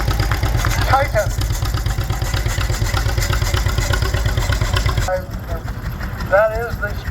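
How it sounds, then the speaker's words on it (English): An antique International Harvester Titan tractor rolls past in a parade at an antique gas and steam engine museum, its engine throbbing steadily and loudly throughout, with people talking nearby over the running engine. "Dean Allen driving an International Harvester. Titan."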